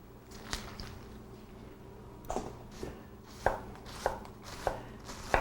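A knife chopping through a quarter of cabbage on a cutting board, several crisp crunchy thunks at irregular spacing, close and clear over faint background hum.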